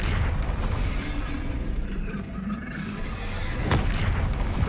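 Spell explosions in Hogwarts Legacy gameplay: dense, rumbling booms and bursts layered over busy game noise, one sharper blast standing out near the end, loud and continuous.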